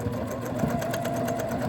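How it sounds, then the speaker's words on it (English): A sewing machine stitches through folded fabric pieces for a mug rug, a close, steady fast-running hum with a rapid needle rhythm throughout. "I'm going to sew right through where those pieces come together."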